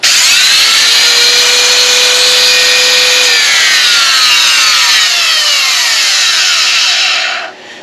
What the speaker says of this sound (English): As you guys can hear, my router sounds like it's about ready to blow up.